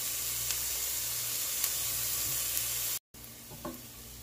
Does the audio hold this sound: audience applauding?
no